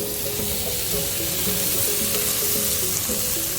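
Hanwoo Korean beef (rib meat and tenderloin) sizzling steadily as it grills, a close, continuous crackle and hiss with no talk over it.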